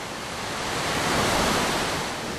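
Glacial meltwater gushes out at the edge of a glacier, about 10,000 liters shooting toward the valley, making a loud, steady, unbroken roar of rushing water with no voices.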